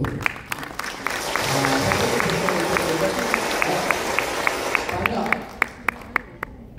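Seminar audience in a hall applauds with a sustained wash of clapping that tapers into a few slow, distinct claps at the end.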